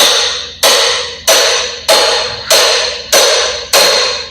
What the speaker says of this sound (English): I just hammer that until it comes out